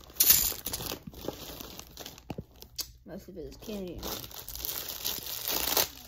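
Plastic bag crinkling and tearing as it is opened, with sharp crackles and rustles coming in bursts from close by, while a person talks over the noise.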